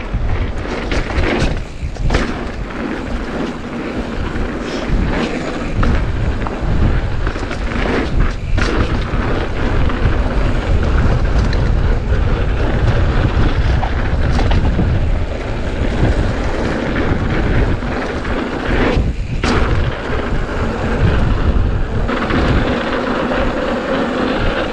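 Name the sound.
strong wind blowing at the top of a mountain bike trail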